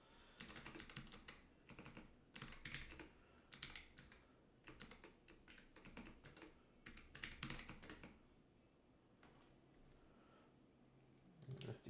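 Typing on a new computer keyboard, heard as bursts of quick, close clicking keystrokes separated by short pauses, with quieter stretches toward the end.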